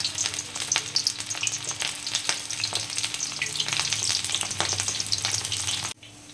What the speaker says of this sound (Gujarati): તો ચાલો આપણે પટ્ટી ભજીયા તળવાનું ચાલુ કરીએ.